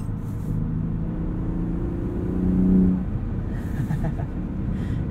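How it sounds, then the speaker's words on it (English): Cabin view of a 2021 Ford F-150 Raptor 4X4 SuperCrew with its twin-turbo V6: a low, steady engine drone that swells briefly into a deeper growl midway, then settles back, heard alone without talk. "Sounds more like a traditional twin turbo V6 instead of whatever the last one sounded like."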